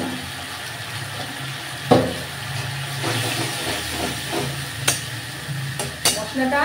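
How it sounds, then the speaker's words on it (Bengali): Spice masala cooks in a pan after water, turmeric and salt have gone in, giving a steady sizzle and hiss with occasional scraping stirs and clinks of the spoon against the pan, close and continuous. "মশলাটা আর একটু কষবো"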